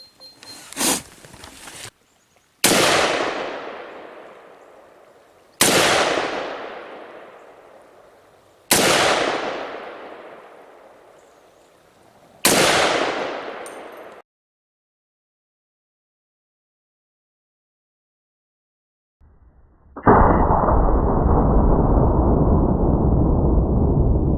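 Four sharp, loud AR-15 rifle shots fired at hard drives, each cracking then ringing off in a decaying echo at regular intervals outdoors, followed by a pause and then a steady loud rushing noise.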